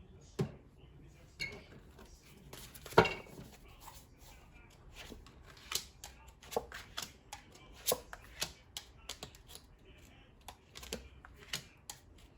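Cards being shuffled close by: a run of crisp riffling snaps and light flicks, with one sharper burst near the start, over a quiet room.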